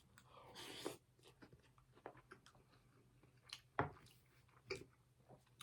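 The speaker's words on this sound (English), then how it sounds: "Now I'm chewing, so you're just gonna have to watch me eat." Close, quiet chewing of food from a Korean War individual combat ration, with a few moist crunches and bites at irregular intervals and soft mouth noises between them, no talking.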